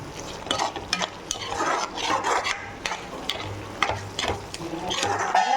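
Dry fish thokku fries in a pan and is stirred again and again, a crackling sizzle cut by frequent utensil scrapes and taps.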